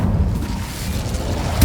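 A fire spell cast in the Hogwarts Legacy video game bursts out as a loud, sustained low rumbling whoosh that holds steady throughout, with a slight swell at the end.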